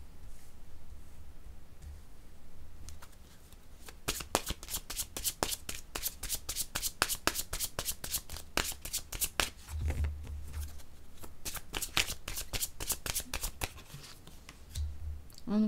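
A deck of tarot cards being shuffled by hand, with repeated rapid riffling bursts at close range, separated by short pauses and soft handling noises.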